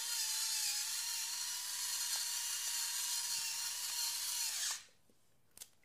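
A salt and pepper grinder turning over a bowl of salad, a loud continuous whirring grind lasting nearly five seconds before it stops abruptly, followed by a couple of faint clicks.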